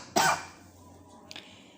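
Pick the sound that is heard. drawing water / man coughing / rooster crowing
man coughing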